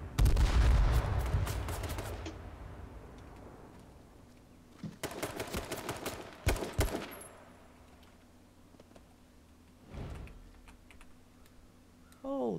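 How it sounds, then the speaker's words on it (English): Grenade blasts and gunfire in the video game H1Z1 come as bursts of sharp cracks and booms separated by quiet gaps, with one heavy explosion near the start, loud and close. "Enough with the nades, homie!"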